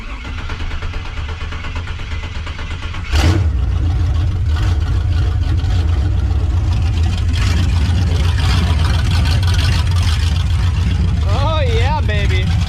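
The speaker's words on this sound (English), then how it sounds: "Crank it over, see if we get some smoke." 1995 Chevy K1500 truck with a new engine and long tube headers cranks, catches and runs at a loud, steady rough idle, with brief human speech over the noise near the end.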